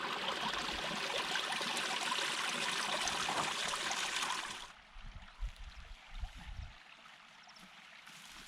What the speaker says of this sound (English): see if I can find some flowing water.